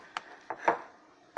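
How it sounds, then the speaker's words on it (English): Oats and other ingredients stirred together in a bowl, three soft scraping, clunking strokes spaced out over about a second, close by and with no talk. "now we are mixing these ingredients all up."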